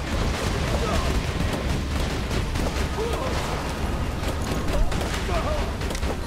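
Automated turret gunfire in the shooter game Borderlands 2: continuous rapid booming shots and explosions in a dense, loud barrage, with a voice talking over the gunfire.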